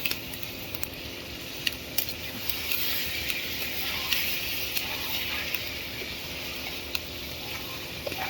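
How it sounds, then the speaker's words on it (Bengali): Tengra fish sautéing lightly in a pan for a tomato and potato curry, giving a steady soft sizzle with faint scattered ticks and stirring clicks, close and moderately quiet, with no talking. "মাছটা দিয়ে হালকা একটু কষানো"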